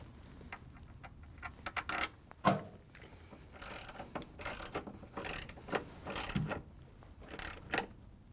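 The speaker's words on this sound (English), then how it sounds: "we can add an extension to the ratchet and put in the one in the back" Ratchet with an extension driving a screw into a Frigidaire washer drive motor, giving a series of uneven clicking strokes and small mechanical rattles, close and fairly quiet.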